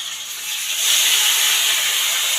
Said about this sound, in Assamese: এইফালে এয়া মাছ ভাজি আছোঁ